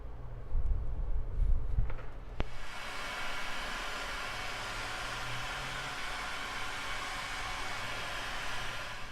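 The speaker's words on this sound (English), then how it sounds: "we can move that tubing up and over those connections and would shrink it down with a heat gun" A heat gun blows a steady, even hiss of hot air over heat shrink tubing on soldered wires for a car radio install, running continuously and close after a few brief handling knocks.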